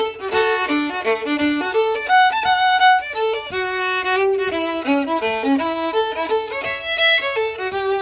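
A solo fiddle plays a lilting waltz in Ottawa Valley style with bright, ornamented melody lines and steady bowing, close and clear with no talking.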